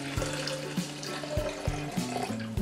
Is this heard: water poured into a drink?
yes